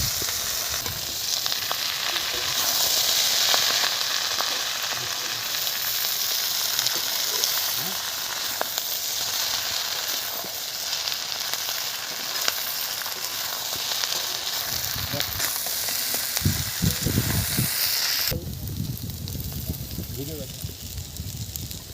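Mustard-style greens (shushni shak) frying in hot oil with onion and turmeric, a steady close sizzle and crackle running throughout, with stirring scrapes near the end and a voice talking over it.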